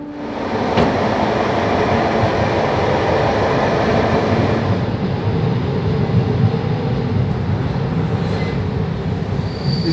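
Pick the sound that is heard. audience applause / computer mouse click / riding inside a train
riding inside a train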